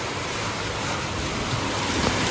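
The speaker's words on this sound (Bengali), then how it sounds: "কেমন বৃষ্টি স্টার্ট হয়েছে" Heavy rain begins to fall, a dense, even hiss of downpour with a faint low rumble, steady and moderately loud throughout with no voices.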